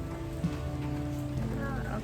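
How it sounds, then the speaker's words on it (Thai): Steady rain falls during the rainy season in Suan Phueng, Thailand, a continuous soft hiss that lasts throughout, with a low tonal hum running underneath. "เพราะว่าฝนตก"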